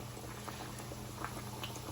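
Continuous crackling sizzle of a breaded pork tenderloin cutlet frying in a hot pan, dense and steady, with small pops scattered through and a low hum underneath.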